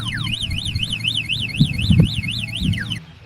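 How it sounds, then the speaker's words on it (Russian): A CITYCOCO 3000W electric scooter's anti-theft alarm wails in a rapid, rising-and-falling electronic siren pattern, loud and steady for about three seconds before cutting off abruptly, with some low rumbling thumps underneath. "Шум и возмущение со стороны системы гарантирован во время касания транспортного средства."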